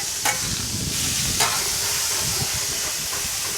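Metal spatula scrapes smash burger patties off a hot griddle, loud close sizzling with repeated gritty scraping strokes and a couple of sharp clanks.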